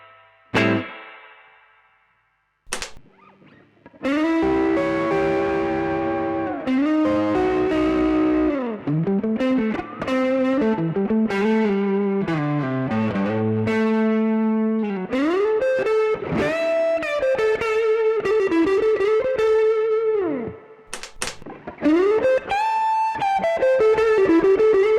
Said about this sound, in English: Like in this preset, H9 will be a spring reverb.